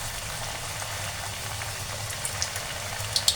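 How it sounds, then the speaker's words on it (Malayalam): A stuffed snack goes into hot, bubbling frying oil, giving a steady close sizzle and fizz with a few sharp pops and crackles building toward the end, no voices over it. "എണ്ണയ്ക്കകത്തോട്ട് നമുക്ക് ഇതൊന്നിടാം."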